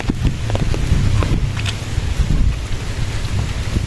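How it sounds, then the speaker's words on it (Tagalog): Rain pattering and splashing nearby, with scattered sharper drips and knocks over a continuous watery hiss. "Ang hirap kapag ganitong umuulan."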